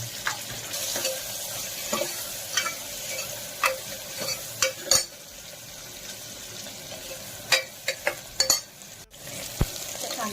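Garlic dropped into hot oil with curry leaves for a dal tadka sizzles in a pan, with a steady hiss broken by repeated scraping stirs and sharp clinks from a spoon, close and moderately loud.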